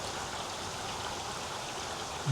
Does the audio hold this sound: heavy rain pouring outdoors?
yes